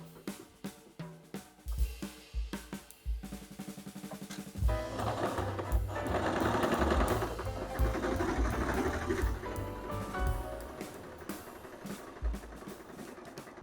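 Domestic sewing machine stitching a seam, a quiet buzzing whir that starts in short bursts and then runs steadily for several seconds before slowing, close and alone.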